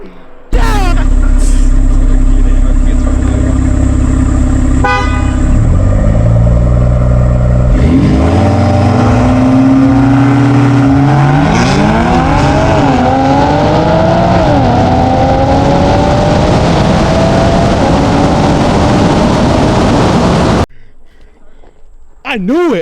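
A BMW X4 M and a BMW 340i launch side by side in a street race, engines roaring loud and close through repeated rising gear pulls before cutting off abruptly, with excited voices over the top.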